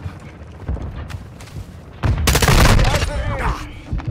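Gunfire and a grenade blast from a Call of Duty Modern Warfare II match, with scattered shots early, then a sudden loud burst of explosion and rapid fire midway and shouting voices in the mix.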